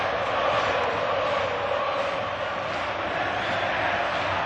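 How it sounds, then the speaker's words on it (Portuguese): Fluminense supporters singing and roaring in a packed stadium during a Copa Libertadores 2008 match against Arsenal, a dense, continuous crowd wash that stays loud and steady throughout. "E a torcida tricolor canta!"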